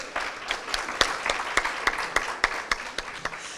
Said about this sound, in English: let's give a round of applause to Water Replenishment District for their efforts